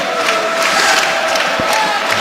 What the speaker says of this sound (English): Caps defensive applause.